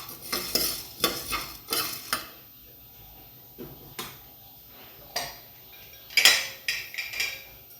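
Sorghum grains are stirred in a hot nonstick pressure cooker with a utensil, giving a series of about a dozen close scraping, rattling strokes at an uneven rhythm over a faint sizzle. There is no talk.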